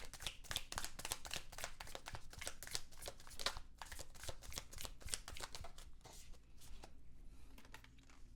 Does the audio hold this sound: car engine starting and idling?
no